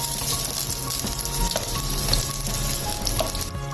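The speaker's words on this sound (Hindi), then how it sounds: "इसमें मैं शामिल कर रही हूँ एक मीडियम साइज़ का प्याज रफली कटा हुआ और इसको मैं हल्का सा सौटे कर लूँगी" A medium onion, roughly chopped, sautés in oil in a pan, giving a steady, close sizzle and crackle with faint stirring scrapes throughout and no talking.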